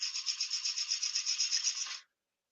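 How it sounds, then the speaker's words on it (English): A large spalted beech bowl is sanded on a lathe, giving a faint, steady rasping hiss with a quick rhythmic pulse for about two seconds before it cuts off, with no voices. "So maybe time for sanding."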